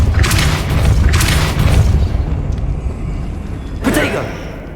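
Depulso force spell impacts in Hogwarts Legacy land as heavy booming blasts, two rolling back to back and a third after a short pause, loud and close.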